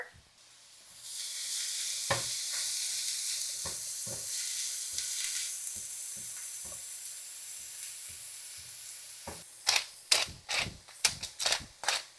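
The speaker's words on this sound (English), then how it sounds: "let me give that a quick stir" Crumbled sausage sizzling in a pan with a steady hiss, then a quick stir with sharp, rapid spatula clacks against the pan near the end.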